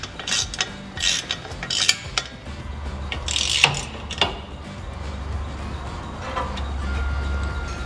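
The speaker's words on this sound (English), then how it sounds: "this will require a wrench along with the ratchet" Ratchet clicking in short bursts while a 15mm bolt is tightened on a Ford F-150 exhaust install. Irregular mechanical clatter, close and moderately loud, over a steady low hum.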